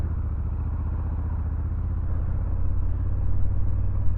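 The engine of a 2024 Honda Africa Twin 1100 DCT motorcycle rumbles close by, steady and throaty, swelling slightly toward the end with no voices.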